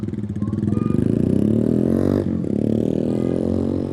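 A Hero Xtreme motorcycle engine runs close by with a rapid, even putter, briefly revving and dipping midway before returning to a steady throb.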